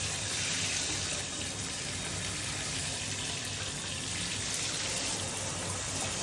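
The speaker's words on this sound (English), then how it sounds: "Someone's taking a bath, or as my grandbaby says, a shower." Water runs and splashes steadily as a pet tegu lizard named Mila bathes, a continuous close faucet-like gush with no voices over it.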